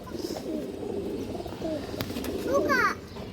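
A female pigeon on a farm coos softly and close, the low throaty calls rolling over faint background noise, with a brief rising trill near the end.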